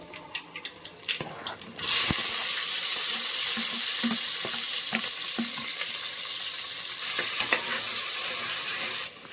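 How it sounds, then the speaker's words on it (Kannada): Two lengthwise-sliced onions go into hot oil in a pan. A few clattering knocks come first, then a sudden loud sizzle that holds steady, with occasional light stirring taps. "ಸ್ವಲ್ಪ ಅದನ್ನು ಫ್ರೈ ಮಾಡ್ಕೋಬೇಕಾಗತ್ತೆ"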